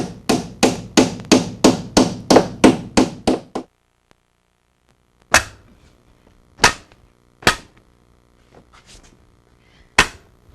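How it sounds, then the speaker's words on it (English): A hammer drives nails into wooden wall studs during basement finishing: a fast run of about ten evenly spaced sharp blows, a pause, then four more isolated strikes, loud and close. "Now it's just a matter of nailing it into the studs."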